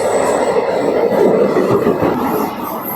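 An express train rumbles past at Karjat railway station, a loud continuous roar of wheels and carriages close by with faint high squealing, no voices.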